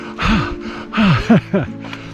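Heavy breathing close to a microphone while hiking up steep hills on a backpacking day trip, a few deep, voiced breaths and gasps in uneven rhythm, loud and near.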